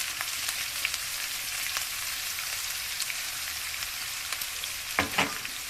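Onion, ginger and turmeric frying in oil for egg curry, a close, steady crackling sizzle like light rain, with a couple of louder scraping stirs near the end and no voices.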